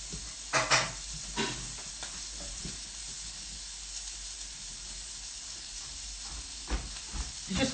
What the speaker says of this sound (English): You want to hear a little gentle sizzle.